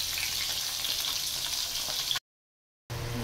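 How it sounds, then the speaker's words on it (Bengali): Bhetki and rohu fish frying in oil, a steady close sizzle for about two seconds, then a short silence before the sizzling returns. "এখানে ভেটকি মাছ ভাজা চলছে"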